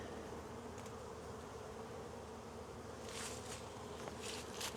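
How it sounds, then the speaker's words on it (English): Honeybees swarming around hives and colonies, a dense continuous buzz close by with individual bees zipping past the ear near the end. "Bees are everywhere."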